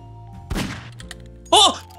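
A single sharp gunshot thump in the video game Garry's Mod, close and brief, followed a moment later by a short voiced cry.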